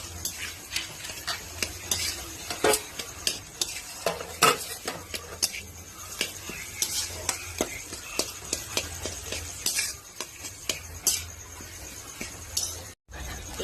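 Potatoes with spices are stirred and mashed in a pan for a singara filling, with rapid, repeated metal clinks and scrapes of the utensil over a faint sizzle, close up and without talk.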